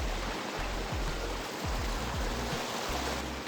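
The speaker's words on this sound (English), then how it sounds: "Man, and the water's flowing too." Rain-swollen creek water rushes steadily near canyon falls, a constant broadband hiss and roar with low gurgling pulses, close and continuous with no voices.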